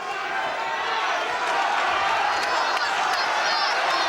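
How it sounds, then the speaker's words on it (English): A boxing crowd at a WBO 112lb title fight between Baby Jake Matlala and Francis Ampofo rises in a steady, loud roar of cheering for Ampofo, sustained and dense throughout. "the crowd sensing a big effort from Ampofo, are rising to their hero"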